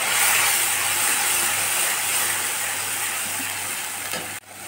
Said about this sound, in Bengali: টমেটো ভাজা হয়ে গেছে, এখন আমি দিয়ে দেবো সরষে পোস্ত বাটা